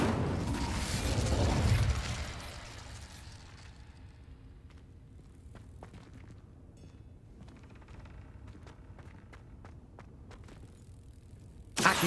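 Incendio fire spell cast in Hogwarts Legacy, a loud whooshing fiery burst that fades after two seconds into quiet clicks and small mechanical ticks, ending with a sharp pop.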